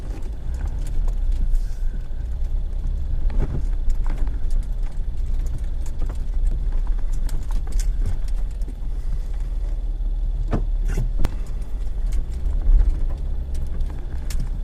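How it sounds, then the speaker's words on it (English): A Jeep JK Wrangler in four-wheel high crawls along an off-road trail at Interlake SRA, a low steady engine rumble under irregular knocks and clatters from rocks and the rough ground, with no talk. "So far, this Jeep is pulling like a champ."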